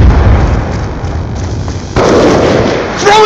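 An EMP grenade detonates in a military shooter game, a dense crackling burst that runs the whole moment, swelling louder partway through, with a short electronic whine near the end.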